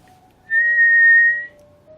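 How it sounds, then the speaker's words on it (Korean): A single clear whistle rises and holds steady for about a second before cutting off, loud and close in near silence. "갑자기 어디서 휘파람 소리가 희미하게 들려오더니 이내 가깝게"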